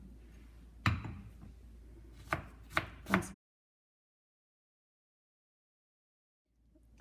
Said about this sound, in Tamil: இதை கொஞ்சம் சின்ன சின்ன பீசஸாக நம்ம கட் பண்ணி வச்சுக்கணும்.